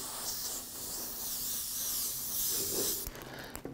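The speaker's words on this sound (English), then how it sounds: "spray inside these little channels" An aerosol spray can hisses steadily at close range as paint is sprayed onto a Bo-Katan helmet for a smoky, scratched effect, the continuous spray stopping abruptly near the end.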